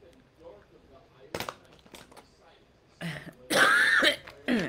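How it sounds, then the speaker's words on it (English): Several rough coughs and throat-clearing bursts from a person with asthma, short isolated hacks followed by a louder sustained cough near the end, close to the microphone in a quiet room. "Ignore my cough"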